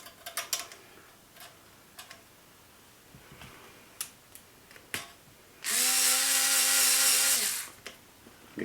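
A power driver runs stainless screws into an RC car chassis, one steady whirring burst of about two seconds, preceded by scattered small ticks and clicks of handling parts.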